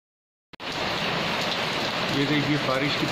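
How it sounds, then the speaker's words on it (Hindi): Heavy rain pours outside at Matiyana on a Spiti motorcycle ride, a dense steady hiss that starts abruptly after half a second of silence and stays loud and continuous. "ये देखिए बारिश कितनी ज़ोर से लगी हुई है बाहर"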